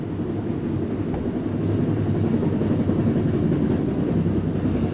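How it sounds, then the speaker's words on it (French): A metro train rumbles past, a steady low roar with a faint rhythmic clatter that swells slightly, heard alone without talk. "C'est le métro, là."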